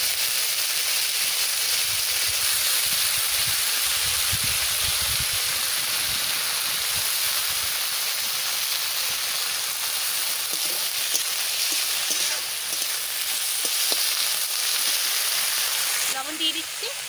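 Thankuni and coriander leaves frying in hot oil, in a recipe of fried bangda fish heads, with a steady bright sizzle throughout, close and loud, that briefly drops and changes near the end.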